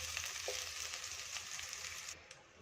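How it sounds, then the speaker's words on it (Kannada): Okra frying in oil for dhaba-style bhindi masala, a steady close hiss and crackle of hot oil with small pops throughout, no voices. "ನೋಡಿ, ಈ ಥರ ಫ್ರೈ ಮಾಡ್ಕೋಬೇಕಾಗುತ್ತೆ"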